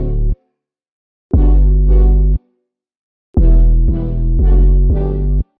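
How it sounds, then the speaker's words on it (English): Sustained synth chords played in blocks: one short stab, a held chord, then a run of rhythmic repeated chords, loud and full with no voices. "how to recreate the main chord synth"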